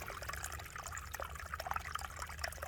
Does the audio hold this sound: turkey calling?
no